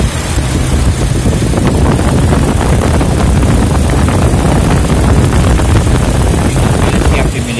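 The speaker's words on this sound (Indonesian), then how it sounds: "Ini suara mobilnya, suara mesinnya, nggak ada suara yang aneh." A 2005 Toyota Kijang Innova petrol engine runs steadily up close, a continuous loud rumble with a dense hiss and no pauses.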